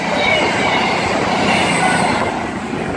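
A Virgin Super Voyager train roars past at close range on the West Coast Main Line at Carstairs, with a loud, sustained rush of wheels and motion and a faint high squeal riding over the rumble.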